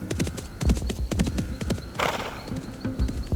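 Horse hooves clip-clop in a quick, steady rhythm close by, with a brief neigh partway through, heard on their own without talk.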